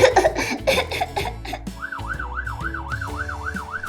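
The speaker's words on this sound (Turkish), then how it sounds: "ah bak ambulans geliyor." A toy ambulance siren wails in a rapid, repeating up-and-down warble after some clattering and beeping, fairly close and loud.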